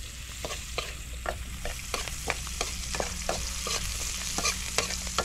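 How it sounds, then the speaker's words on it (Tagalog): Onion, garlic and chili sauté in hot oil with a steady close sizzle, while a spoon scrapes and stirs the pan in regular clacking strokes throughout. "Gisa-gisa na. Halo-halo na."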